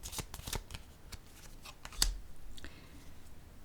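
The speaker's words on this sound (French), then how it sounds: "Je vais déposer une carte sur l'équilibre à l'envers." Tarot card laid down on a table, a single soft slap with a brief papery flick against faint card rustling, fairly close and alone.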